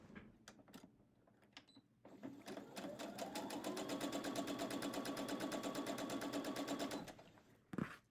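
A sewing machine stitches a 1/4 inch seam allowance on quilt patchwork, a steady rapid needle clatter running about five seconds after a few soft handling clicks, then stopping abruptly.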